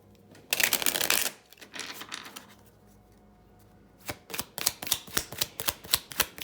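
A deck of cards being shuffled for a reading: a brisk riffle burst, a softer pause, then a rapid series of crisp card snaps, close by with no talking.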